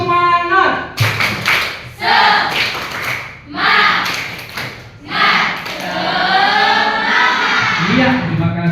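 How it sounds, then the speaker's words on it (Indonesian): A classroom group of students does a rhythmic spirit clap, sharp bursts of claps in a set pattern separated by pauses, mixed with shouted chanting voices close by. "kita ulang, once again, sekali lagi, tepuk semangat."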